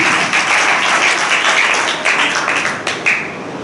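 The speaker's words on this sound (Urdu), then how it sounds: "اپنے لیے زوردار تالیاں." A church congregation bursts into loud applause during a sermon, vigorous close clapping that stays dense, then thins and tapers near the end.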